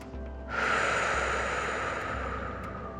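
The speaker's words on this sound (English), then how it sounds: "Deep inhales and exhales." A deep, slow breath in seated yoga, drawn in and pushed out through the nose and mouth with a rushing, airy texture, close and fairly loud and heard alone.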